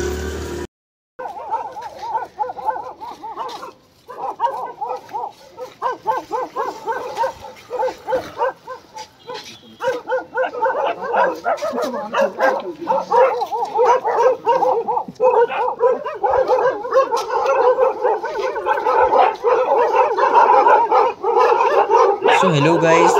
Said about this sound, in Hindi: तो यहाँ पे बहुत कुत्ते भौंकने लग गए हैं